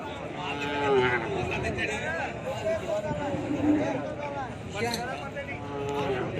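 Cattle moo repeatedly at a busy livestock market where animals are sold before Qurbani, the long, drawn-out lowing rising over a steady crowd murmur and background chatter, with people talking nearby throughout.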